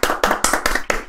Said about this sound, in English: Applause for the old man.